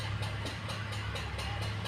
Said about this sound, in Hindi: वहाँ पे खेत में ट्रैक्टर चल रहा है